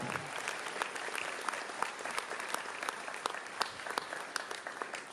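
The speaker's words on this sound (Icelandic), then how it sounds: "Gefum honum líka gott klapp." A crowd at an accordion lovers' festival in Ísafjörður claps for Jón Þorsteinn Reynisson, trio member; a continuous, evenly sustained round of applause with sharp individual claps standing out throughout.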